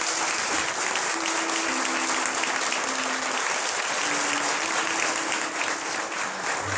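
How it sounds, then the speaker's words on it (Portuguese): A church congregation at a Cerco de Jericó service applauds the Lord in a loud, continuous wash of clapping that fills the room evenly. A sustained tone, likely music or a held note, sits quietly underneath. "pode aplaudir o Senhor"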